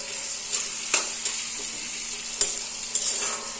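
Mushroom pieces frying in hot oil, a steady close bright sizzle throughout with occasional sharper pops and spatters.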